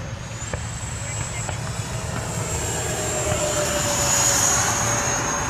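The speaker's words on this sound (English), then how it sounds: "Coming for a more high speed pass this time." A Freewing B-2 RC model jet makes a high speed pass, its steady ducted-fan whine holding and swelling slightly as it nears, loud and continuous with voices in the background.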